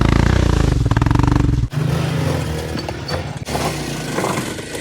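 A Kawasaki KLX 230 motorcycle engine runs loud and close at the start of an off-road trail ride in Kerala, with a throbbing idle that shifts into a rougher, clattering rev.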